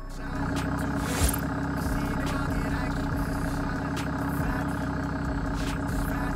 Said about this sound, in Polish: cały czas posługujemy się standardowym silnikiem, czyli 5 cylindrów doładowany i na postoju brzmi całkiem fajnie